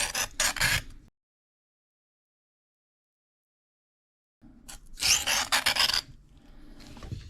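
A knife blade is drawn across a coarse Kitanis diamond sharpening plate in rapid rasping strokes, one short burst, a long silent pause, then another run of close, scratchy passes.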